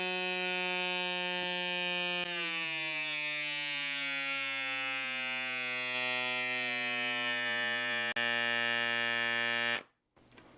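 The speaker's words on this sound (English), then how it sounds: "see if it'll pump this tire up again to 80 psi on the same battery charge" A rechargeable bike pump, an AUXITO A101BL or CYCPLUS AS2 Ultra, drones loudly and continuously while inflating a tire toward 80 psi, its motor pitch sinking gradually as pressure builds, then cutting off abruptly.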